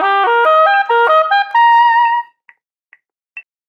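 An oboe plays a short syncopated etude passage from ATSSB All-Region Etude #18: clear, close reed notes in quick stepwise runs that end on a held tone, followed by a few faint clicks.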